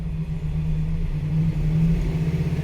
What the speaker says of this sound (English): As I rev it up